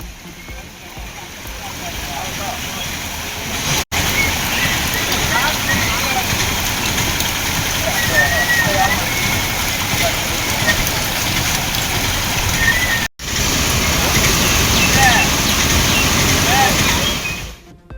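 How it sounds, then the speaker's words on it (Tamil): Floodwater pours into a residential area near Kadayam in Tenkasi district after heavy rain, a loud, continuous rushing roar that persists throughout, with a couple of brief cuts. "தென்காசி மாவட்டம் கடையம் அருகே குடியிருப்பு பகுதிகளுக்குள் புகுந்த வெள்ளம்"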